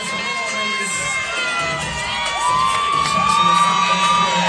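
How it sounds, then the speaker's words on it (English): A hometown crowd at a Friday night boxing event cheers and whoops for a local fighter in a luchador mask, a steady roar of voices with shouts rising louder toward the end. "Joshua Flores definitely brought the hometown crowd"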